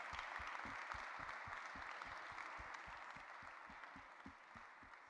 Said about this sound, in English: So I suggest a round of applause to them.